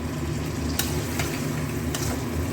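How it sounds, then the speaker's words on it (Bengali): A paste of ground coriander, cumin, turmeric and Kashmiri chilli powder mixed with water fries in a pan with a steady close sizzle, broken by a couple of brief spatula scrapes. "এবার মশলাটা একটু ভালো করে ভাজা হতে দেবো"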